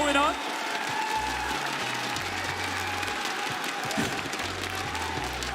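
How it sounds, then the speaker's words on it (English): An arena crowd at an esports grand-final playoff swells in a broad, steady rumble of applause and cheering, loud and continuous, with low musical tones pulsing underneath. "I can hear the crowd. There's a little bit of a rumbling going on behind me."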